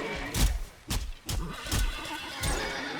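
Horses in the video game Valheim let out several short, loud neighs and snorts in quick succession, close by, with no talking over them.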